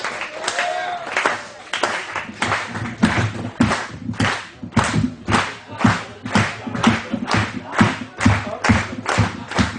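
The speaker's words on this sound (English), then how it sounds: "I want to get a slow clap going for Stu, please." A comedy show audience claps slowly in unison, steady rhythmic claps that gradually build in loudness, with some voices mixed in.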